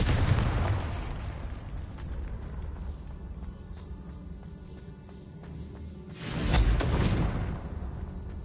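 A Confringo blasting spell in Hogwarts Legacy bursts with a loud, booming explosion at the start and another heavy blast near the end, with rumbling game ambience between them.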